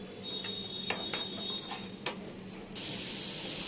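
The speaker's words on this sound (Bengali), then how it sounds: "এবার ভালো করে আবার কষতে শুরু করলাম।" Pasta sauce seasoned with Maggi masala and a little sugar sautéing in a pan, a steady soft sizzle broken by a few sharp spoon clicks and taps, growing louder and hissier near the end.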